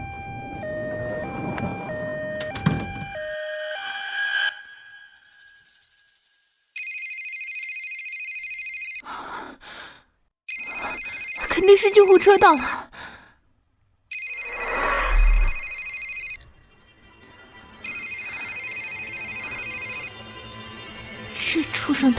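A telephone rings in repeated bursts of bright, steady electronic tone at a wealthy family's crowded 70th-birthday banquet, pausing between rings while people talk loudly over and between them.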